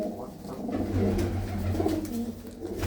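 Pigeons coo softly and repeatedly in a low, rolling murmur, several overlapping calls close by, with faint background noise and no talking.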